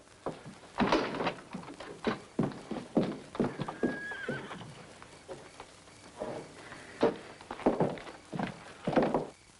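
A sick horse whinnies and neighs repeatedly while its hooves clip-clop at a walk, loud close bursts spread through the scene with no one speaking.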